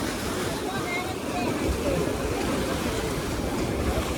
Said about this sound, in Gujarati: અત્યારે જે મોજા આવે છે હું તમને બતાવું